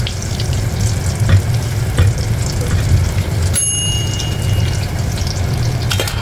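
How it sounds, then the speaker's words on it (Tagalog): Coated enoki mushrooms fry in hot oil with a steady, dense sizzle and crackle that runs throughout, close and fairly loud, with no talking. "Siguraduhin nyo lang na mainit yung mantika bago nyo iluglog tong mga na-coat nyo na enoki"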